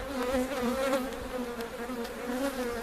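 Crowded honeybees hum densely inside a hive among capped brood comb, a close, continuous buzzing swarm with no voices.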